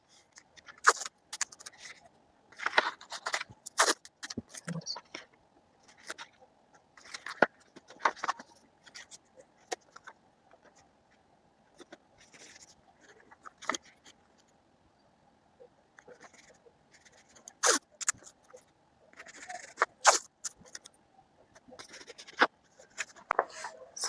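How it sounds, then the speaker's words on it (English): Scissors snip through fabric while a jigsaw puzzle pillow is being made, with quick, crisp cutting sounds in irregular bursts and short pauses, close and fairly quiet, and no voices. "I'm going to cut this out of my fabric"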